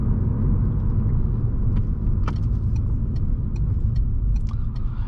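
A Peugeot RCZ drives along smoothly, its steady low road and engine rumble filling the cabin, with occasional light rattles and clicks on top and no talking.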